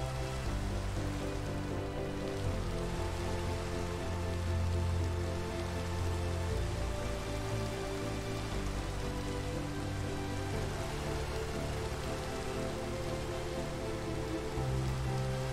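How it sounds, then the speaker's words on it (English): Steady rain falling in the game Minecraft, a continuous soft hiss and patter of drops with no voices, even and unbroken over a low background tone. "Oh, see, now it's raining."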